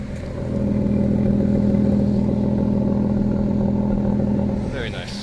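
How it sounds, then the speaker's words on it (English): An Aston Martin V12 car engine runs steadily nearby for several seconds, a loud low rumble that swells and then eases off, with voices audible at the end. "Let's listen to that engine."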